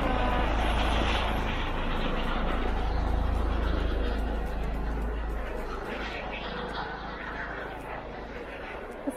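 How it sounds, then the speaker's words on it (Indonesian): A steady, loud helicopter engine drone with heavy low rumble, continuous throughout and fading slightly toward the end, passing overhead on a snowy day. "Kesenangannya Zain lihat helikopter."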